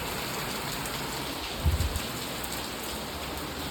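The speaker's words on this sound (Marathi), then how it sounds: "आता पाऊस चालू झाला आहे, वीज वगैरे चमकते, जोरात पाऊस चालू आहे." Heavy rain pours steadily in a dense, hissing wash, with a brief low thump partway through; no voices.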